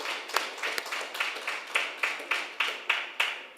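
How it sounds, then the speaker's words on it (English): Slow, evenly spaced claps at a JSE listing ceremony for Sygnus Credit Investments, a handful of hands striking in steady rhythm, fairly close and crisp, with no voices over them. "A round of applause again for this Sygnus Credit Investment."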